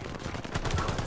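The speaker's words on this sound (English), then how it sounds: "I'm shooting my fucking teammate, bro." Automatic gunfire in the Call of Duty Vanguard video game, a short rapid burst of shots loud and close for about a second.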